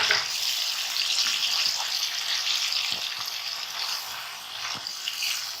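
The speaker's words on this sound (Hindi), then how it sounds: "हम 3-4 मिनट इसको खूब अच्छा सा फ्राई करेंगे इसमें तेज आंच पर" Chicken pieces fry over high heat in hot oil, giving a steady, close sizzle that runs throughout with faint clinks from the pan.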